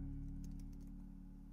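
Computer keyboard keys are pressed in a series of faint, quick clicks over a steady low electrical hum, close and quiet, with no talk.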